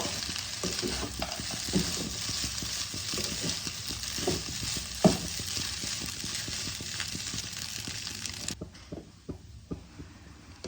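Cashews, raisins and peanuts get stirred into poha pulao in a pan, with soft frying sizzle under repeated scraping spoon strokes. Near the end the sizzle drops away and only a few scattered clicks remain.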